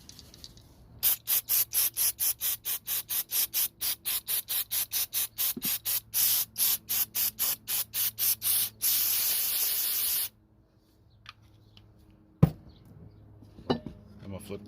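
Aerosol sensor cleaner sprayed into the sensor port of a Prius, heard as a fast series of about thirty short, sharp hissing bursts followed by one long continuous hiss, then quiet with a few faint handling clicks.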